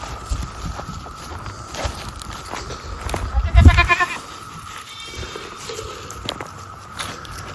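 Goats out on pasture make a short bleat in the middle of a noisy outdoor scene, with rustling and shuffling movement, faint background sounds and some speech.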